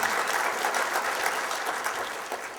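Audience at an annual banquet applauds volunteers and sponsors, a steady, dense roll of many hands clapping at moderate distance, sustained throughout without a break and easing slightly at the end.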